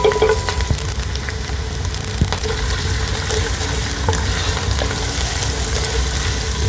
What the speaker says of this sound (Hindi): एक कप हम इसमें गाजर डालेंगे।